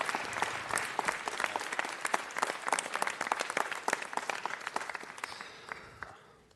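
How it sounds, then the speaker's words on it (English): An audience at a city council meeting breaks into a round of applause, with dense, steady clapping from many hands that holds for several seconds and then fades out at the end. "Let's give a round of applause,"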